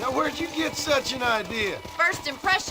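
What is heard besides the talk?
No distinct noise like a dog, phone or traffic.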